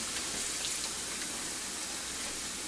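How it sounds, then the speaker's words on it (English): Hot water pours or runs steadily into a container while silver jewelry is being cleaned, a soft continuous splashing hiss at close range with no talking. "This is hot water."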